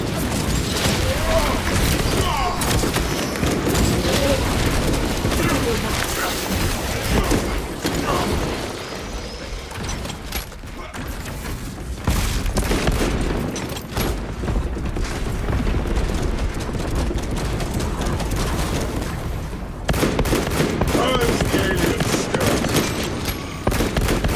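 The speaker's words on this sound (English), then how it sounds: "Energize the las cannons and rain fire down on these foul creatures." Las cannons fire in Warhammer 40000: Space Marine 2, a long barrage of heavy booming blasts and rapid bursts with mechanical clanks, loud and continuous, with brief dips, and a voice talking at moments beneath it.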